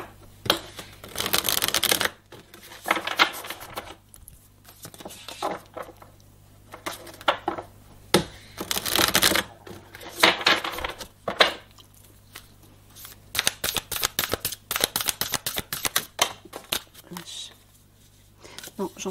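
Tarot cards being shuffled and handled in bursts of rapid riffling and flicking, with louder busy stretches separated by pauses, under intermittent talking.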